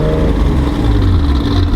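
A Porsche engine revs with its exhaust valves open, a loud, continuous low rumble filling the whole short moment with no talking over it.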